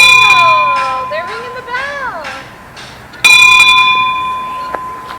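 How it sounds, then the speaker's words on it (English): A bell rings downtown in Bourne near the canal, clear ringing strokes that come in separate bursts with a louder strike partway through, while a person talks over the first part. "ringing the bell."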